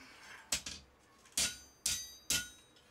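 Heavy hammer blows strike hot steel while a knife is forged at the anvil: four sharp, loud, ringing impacts at uneven intervals, each decaying quickly, with no talking.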